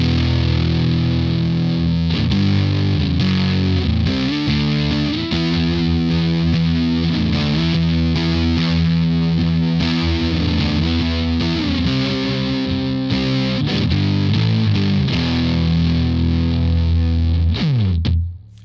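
Fender Stratocaster electric guitar played through a Glutnik fuzz pedal into a Twin Deluxe Reverb amp, loud saturated distorted chords and riffs ringing continuously, sustaining almost the whole time before cutting off at the end.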